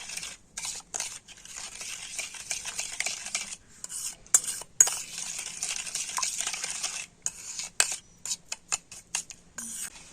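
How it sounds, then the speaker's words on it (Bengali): Milk, ghee and powdered sugar being stirred together in a bowl, a steady run of scraping, clinking strokes that come in bursts with short pauses, close and fairly loud with no voices. "আর এবার আমি দুধ, ঘি আর গুঁড়ো চিনিটা খুব ভালো করে মিশিয়ে নেব।"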